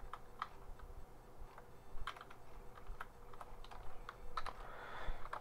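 Steady clatter of keys on a computer keyboard as code is typed, irregular quick taps close by over a low room hum, with no talking.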